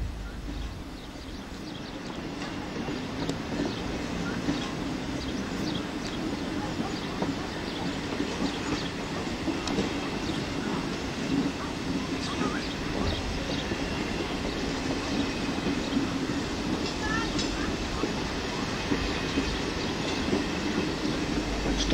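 Old D 445 diesel locomotive running along a rural line in a park, a steady rumbling engine drone with faint wheel clatter, continuous and fairly distant.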